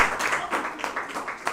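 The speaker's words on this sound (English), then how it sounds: "A round of applause for her." An audience applauds a 15-year-old girl who has won the National Mathematics Olympiad, a steady, dense patter of many hands with small swells and no voices over it.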